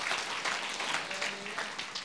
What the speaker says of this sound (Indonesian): Yang setuju tepuk tangan bagi Allah kita.